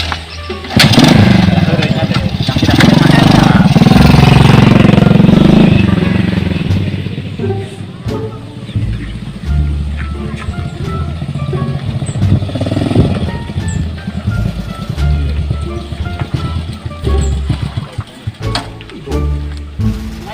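A small motorcycle engine revs loudly at first, then settles into a rough, uneven idle with occasional sputters from a stalling bike, with faint voices nearby.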